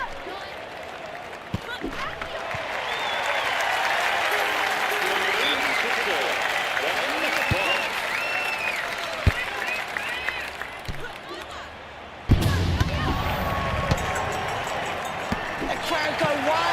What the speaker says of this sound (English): Crowd go wild and they respond.